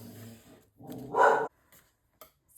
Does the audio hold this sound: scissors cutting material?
no